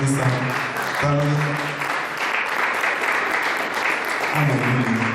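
A church congregation applauding loudly and steadily throughout a service, the dense clapping running beneath voices and music-like tones that come and go.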